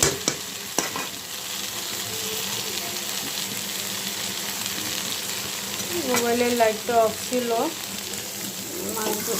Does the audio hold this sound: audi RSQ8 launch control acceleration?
no